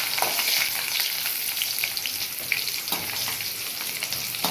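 Mustard seeds popping and garlic frying in hot oil make a loud, steady crackling sizzle, close by and continuous, with scattered sharper pops throughout and no talking.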